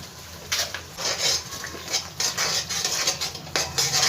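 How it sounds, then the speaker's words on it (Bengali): Utensils clink and scrape against a cooking pot as half a small spoon of sugar goes into a potato and pointed gourd curry, a steady run of close metallic knocks and stirring scrapes with no talk. "এই পর্যায়ে আমি স্বাদটাকে ব্যালেন্স করার জন্য ছোট চামচের হাফ চামচ আমি চিনি দিয়ে দিচ্ছি।"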